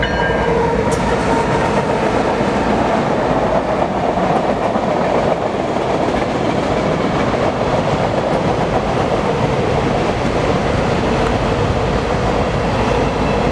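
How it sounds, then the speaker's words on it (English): A westbound BNSF Railway ES44AC locomotive, number 6208, and its train roll past in Spokane Valley, Washington, with a loud, continuous rumble of wheels and cars filling the whole stretch. "Still got this is another westbound Burlington Northern."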